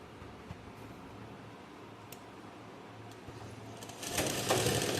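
A sewing machine stitches fabric with a faint, steady mechanical ticking hum that grows louder and busier over the last second.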